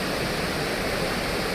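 Steady, full roar of the Vyaghreshwar waterfall near the temple at Devgad, a tall cascade of about 300 metres, heard as continuous broadband rushing water with no voices.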